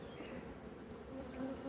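Bees buzz steadily and continuously at close range, a dense droning hum with no voices over it.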